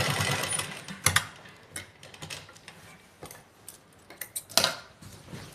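Sewing machine stitching a back neckline facing on a garment, running in short irregular bursts of rapid mechanical clatter with brief pauses, close and without talk.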